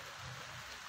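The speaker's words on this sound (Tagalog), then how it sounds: "ngayong araw kasi umuulan dito sa Baguio" Rain falling in Baguio, a faint, steady hiss of drops on surfaces with no voices.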